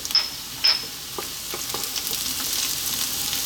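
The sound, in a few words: chopped garlic sizzling as it is dropped into the pan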